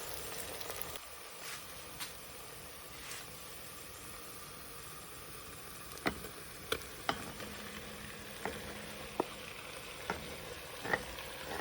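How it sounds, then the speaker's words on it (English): Lamb chunks hit softened onion and garlic in a hot pan and sizzle steadily, with scattered light clicks and taps from the pan or utensil. "I'm going to add my meat chunks into this"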